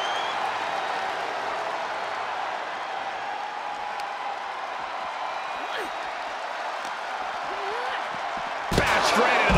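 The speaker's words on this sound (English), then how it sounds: "Look at Natalya getting the crowd involved." Simulated arena crowd in the wrestling video game WWE 2K24, a steady roaring wash of cheering through a women's match, swelling louder with a burst of noise near the end.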